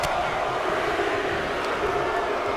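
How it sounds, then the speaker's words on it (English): An arena crowd in the wrestling video game WWE 2K23 chants a countdown in unison, a dense, steady roar of many voices filling the whole moment without pause. "The crowd is counting it down"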